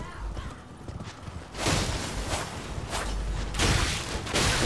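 Horse hooves clip-clopping in a video game, with loud rhythmic thuds and rustling bursts close up, and a whinny mixed in under faint background voices.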